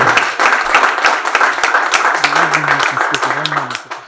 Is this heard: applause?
yes